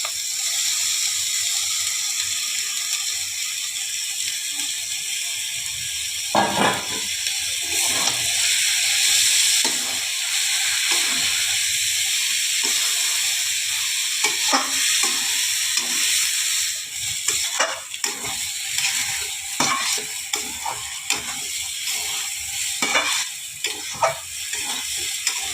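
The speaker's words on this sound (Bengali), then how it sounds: "এবারে আমি চালগুলো দিয়ে দিচ্ছি।" Gobindobhog rice stir-fried in a pan for a murighonto with katla fish heads: a steady sizzle with repeated scraping and clicking stirs, close and continuous, no voices.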